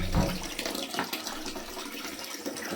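Water runs from a garden hose just hooked up at a winter mountain log cabin, a steady close rush and splash with a brief gurgle at the start, heard alone.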